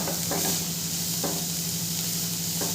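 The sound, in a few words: stirring and frying chili powder and cumin in pan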